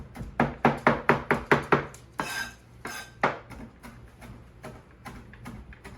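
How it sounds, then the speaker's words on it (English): A knife chops cilantro finely on a board, about eight quick, sharp knocks in a row followed by a few scattered cuts, some scraping and clatter. "you want this to be chopped up a little bit finer"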